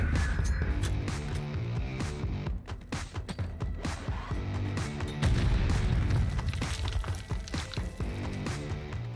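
Grenade blasts in Modern Warfare 2, heard as dense, loud booming bursts with deep rumbling low end, repeated throughout under a busy layer of game music and effects.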